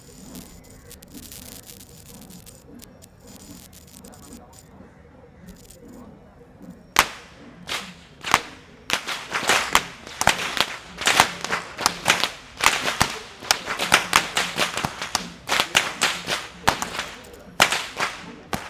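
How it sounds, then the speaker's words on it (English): Whip wielders at the front of the Kandy Esala Perahera procession crack their whips in a long series of loud, sharp snaps, irregular and overlapping, after a quieter stretch of crowd ambience. "the whip wielders who are walking up front with the sound of the whips piercing through the skies"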